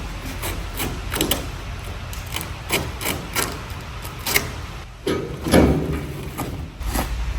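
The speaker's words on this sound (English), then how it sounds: "take a sharp razor," A sharp razor knife slicing carpet off a pontoon boat board, heard as repeated close scraping and tearing strokes with knocks in between.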